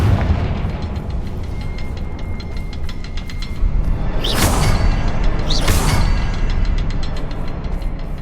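Two loud blasts from the Confringo spell in Hogwarts Legacy burst a second or so apart over a constant rumbling game backdrop, each a sharp whooshing explosion.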